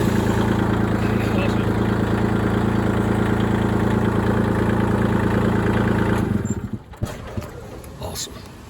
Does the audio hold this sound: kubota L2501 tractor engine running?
yes